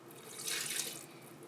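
Cold water poured into a pizza dough mixer bowl, a short, soft splashing stream lasting about a second and a half, close by with no talking.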